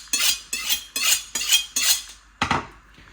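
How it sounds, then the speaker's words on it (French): A kitchen knife is drawn repeatedly along a sharpener, with six crisp scraping strokes in a steady rhythm, close and clear with no talking. "Pareil, on aiguise bien son couteau."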